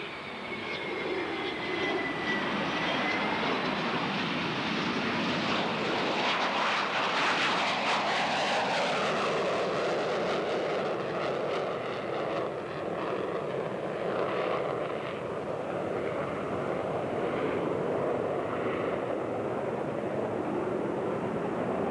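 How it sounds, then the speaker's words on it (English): An FB-111A jet aircraft takes off with a loud, rising roar that builds and then trails away as it climbs out, heard alone with no voices. "The takeoff of the FB-111A was normal and performed just like an F-111"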